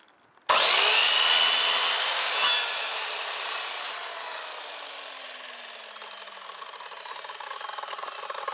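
Timber being sawn by hand to make spacers, a loud close rasping stroke that starts abruptly and then continues as a steady, slowly fading scrape.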